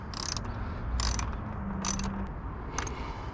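A ratchet tightens the clamp on a JLT Series 2 cold air intake in a Dodge Challenger Scat Pack. Four distinct bursts of crisp clicking come close up over a steady low background hum.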